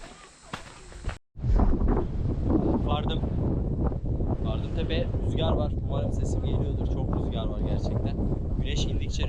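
Heavy low rumbling buffeting of wind against the microphone while hiking up Pidurangala Rock in Sri Lanka runs throughout, with a person talking in Turkish over it.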